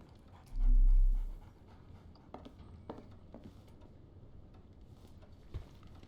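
A dog pants in short, quiet breaths during a scene in the video game Sherlock Holmes: The Awakened, faint against soft ticking and background game sounds.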